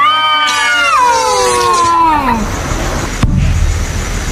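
A cat meows loudly and close by in long, drawn-out, whining cries that rise and fall, then a sharp pop or thump and quieter background noise.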